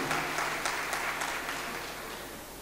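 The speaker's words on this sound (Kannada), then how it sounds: "ಜೋರಾದ ಚಪ್ಪಾಳೆಯೊಂದಿಗೆ ಮತ್ತೊಮ್ಮೆ ಧನ್ಯವಾದಗಳನ್ನು ಅರ್ಪಿಸ್ತಾ ಇದ್ದೀನಿ" Loud applause from a gathered audience honouring a well-known doctor, dense steady clapping close by that gradually tapers off.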